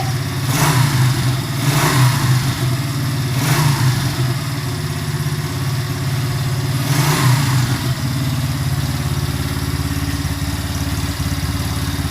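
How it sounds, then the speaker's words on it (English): Motorcycle engine idling steadily up close, with a few brief throttle blips rising above the loud continuous rumble. "And then just rev it up a little bit."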